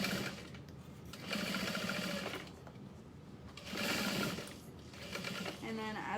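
A sewing machine set to a 3.5 stitch length sews a handbag right alongside stiff Peltex interfacing, whirring close by in three bursts with brief slowdowns between them.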